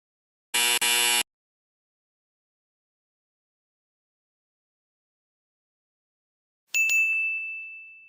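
Buzzer cueing an improv scene prompt: a short harsh double buzz, then silence, then a bright ringing ding that slowly decays.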